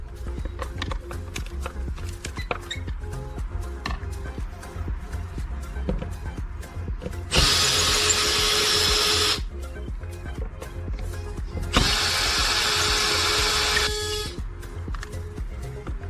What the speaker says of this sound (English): To remove the lamp, I first loosened the two screws.